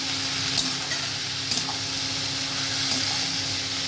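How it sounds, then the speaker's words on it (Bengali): Cabbage and ginger are stirred in a pan for a vegetarian cabbage curry, with a steady hiss of sizzling and a few faint scraping strokes of the spoon, close up with no talking. "আদাটা দিয়েও ভালো করে নাড়াচাড়া করবো এইভাবে"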